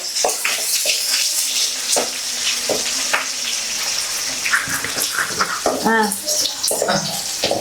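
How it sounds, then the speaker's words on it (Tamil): Sliced big onions and slit green chillies fry in hot oil for parotta, a steady loud sizzle with scraping stirs and clinks of a spatula throughout. "கட் பண்ணி வச்சிருக்கிற பெரிய வெங்காயத்தை வந்து போட்டிருக்காங்க"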